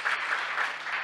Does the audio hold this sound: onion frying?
no